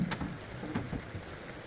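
Steady rain pattering on a surface outdoors, a dense close hiss with scattered brighter drop taps, heard alone.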